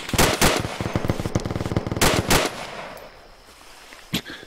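Machine gun fire in a military video game, two loud close bursts of rapid automatic shots, then quieter background and one last short shot near the end.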